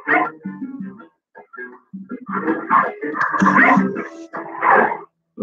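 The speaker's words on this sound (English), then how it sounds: "The pups are so busy squabbling, they don't realize that Mom's come out." Puppies squabble at close range with a burst of yips, whines, growls and high-pitched barks, in short overlapping outbursts broken by brief pauses.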